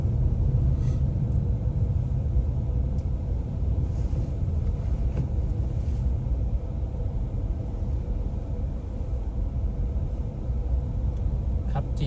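Road traffic in Vientiane, Laos: a steady, loud low rumble of passing cars and engines runs throughout, with faint higher hiss and occasional brief clatters, and no voices.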